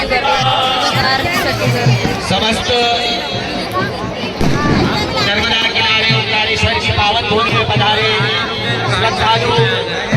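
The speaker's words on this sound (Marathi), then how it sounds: "एवढी जास्त गर्दी आहे खूप जास्त पब्लिक आहे" A large crowd murmurs and chatters continuously at Brahmapuri ghat on the Narmada river ahead of the evening aarti for the river's jayanti festival, a dense steady hubbub with overlapping voices.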